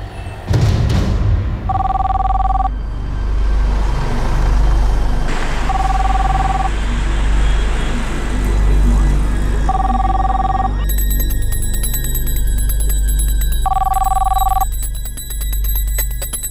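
A landline telephone rings indoors in four evenly spaced double-tone bursts, loud and clear over a steady background hum, with a brief voice heard between the rings.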